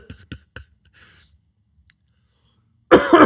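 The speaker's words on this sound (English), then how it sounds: "you just gave me your nagging cough" One person gives a single harsh, loud cough close by after a stretch of quiet with a few soft murmurs and breaths.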